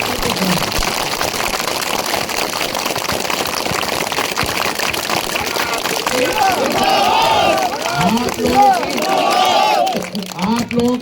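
At a gathering in Imjhara village, Guna, Madhya Pradesh, a crowd makes a dense, continuous roar of clapping and noise for several seconds, then it thins as a voice comes through over the fading crowd.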